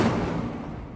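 Incendio fire spell cast in the video game Hogwarts Legacy, a single loud whooshing fiery burst that starts at full strength and slowly fades over about a second, heard alone.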